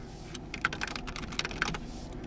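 Typing on a Samsung Galaxy A56 5G phone's on-screen keyboard while filling in a lost-device form: a quick run of light, irregular taps, close and fairly soft, with no talking.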